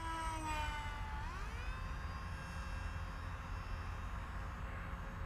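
A small cardboard canard pusher model plane cruises slowly past, its propeller whine steady and fairly loud throughout, with the tone sliding downward early on as it passes by.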